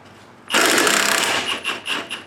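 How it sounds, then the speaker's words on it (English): An impact wrench rattles a 16 mm nut off an Audi B8 front strut, a loud, sudden hammering burst that pulses several times before tapering off. "So this is a 16 millimeter. I'm going to take the nut off first."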